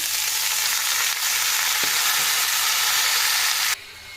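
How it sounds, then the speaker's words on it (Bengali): Chopped amaranth greens hit a hot pan of fried garlic with a loud, steady sizzle that fills the whole stretch and cuts off sharply near the end. "তো আমি এখন শাকটা ঢেলে দিচ্ছি।"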